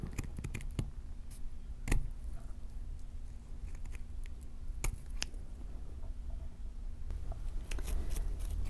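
Scissors trim soft flex beading wire with a few faint, crisp snips spread apart over a quiet room background.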